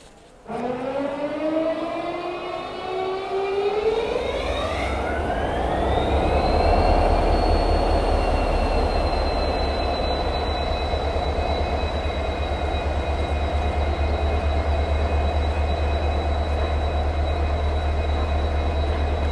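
A loud WDP-4D diesel locomotive horn-like tone rises in pitch then holds steady over a constant low engine rumble, close and sustained without talk.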